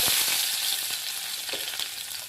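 Small onions fry in hot oil in a kadai, a bright continuous sizzle heard close up with a few soft stirring knocks, no speech.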